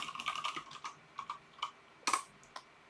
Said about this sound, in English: I can type out the literal error and the message